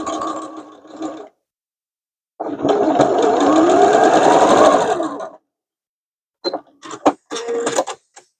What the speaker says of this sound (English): I'm just going to sew from one edge of the pouch to the other without doing any folding of that little binding strip.